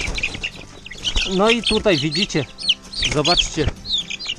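Chickens cluck and squawk close by in short bursts while someone talks over them.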